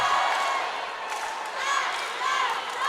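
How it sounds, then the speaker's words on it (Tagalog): Crowd at a volleyball match involving Ateneo cheering and roaring in a steady, dense wash of voices, with swells of whoops rising and falling across the few seconds. "And we have everybody in the crowd cheering."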